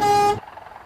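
The second horn of a Scania K410 bus in Bus Simulator Indonesia sounds one loud, sustained blare lasting about a third of a second, then cuts off to a low idling hum.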